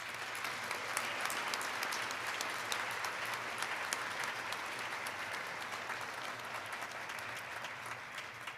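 A large crowd at a fall commencement ceremony applauds the graduates. Dense, sustained clapping holds at an even level, somewhat distant and roomy, with no voices over it.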